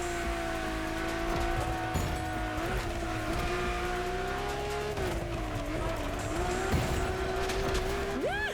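Drift car tires squealing in a long slide in The Crew Motorfest, a sustained wavering screech over engine roar that bends in pitch as the car swings, loud and continuous with no talking.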